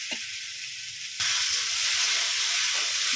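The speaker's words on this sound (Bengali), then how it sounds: "এখন আমি খুব সুন্দর করে আলুগুলো আর কাঁঠাল দানাগুলো কষিয়ে নেব।" Potatoes and jackfruit seeds sizzle as they are sautéed in a pan, with a steady broadband frying hiss that jumps louder partway through and holds close and continuous, with no talking.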